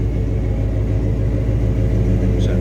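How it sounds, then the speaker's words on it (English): A 1985 Chevrolet K10 Silverado pickup idles with a deep, steady rumble through its MagnaFlow exhaust, loud and close with a throbbing low-end pulse and no talk. "There's that MagnaFlow exhaust, man."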